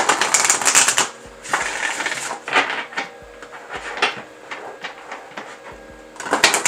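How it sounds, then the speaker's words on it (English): Oracle card deck shuffled by hand, giving bursts of papery riffling and slapping cards with short pauses between them, close up and with no talk. "Yeah, no issues with shuffling. It glides pretty nicely."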